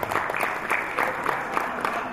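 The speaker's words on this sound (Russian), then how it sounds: "вы сейчас встретили аплодисменты Юрия Антонова" An audience claps for Yuri Antonov at a 70th anniversary evening party in Dushanbe, a moderate, fairly distant round of applause with rhythmic clap accents throughout.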